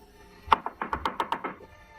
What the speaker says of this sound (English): the knocking came again, this time much louder and more frantic